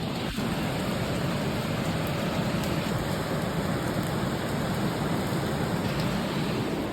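Heavy rain mixed with the rush of a swollen river in Kullu-Manali, a steady, dense broadband roar that holds at one loud level for the whole stretch with no talk over it.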